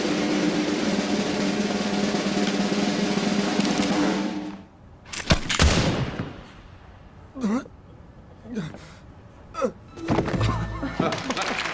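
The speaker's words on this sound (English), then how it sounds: "When the handkerchief was dropped to the floor, the men were free to fire." Two pistols fire in a staged duel after a dropped handkerchief, heard as sharp loud bangs near the five-second mark, followed by a few scattered thuds, with a steady noisy bed before them.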